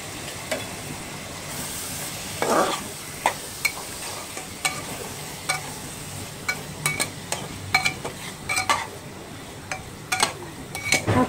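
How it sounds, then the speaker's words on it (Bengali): Beef tripe with spices being stirred in a pot, a low simmering hiss broken by repeated sharp metallic scrapes and clinks of the spoon, sparse at first, then busier. "এখন এগুলো আমি ভালোভাবে নাড়াচাড়া দেব।"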